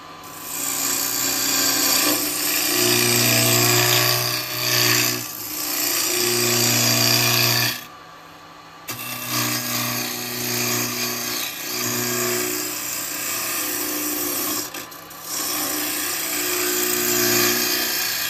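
Carbide woodturning tool scraping a spinning wooden workpiece on a lathe, a steady loud grinding rasp with the motor's hum beneath, briefly pausing about halfway through, then resuming; no talking.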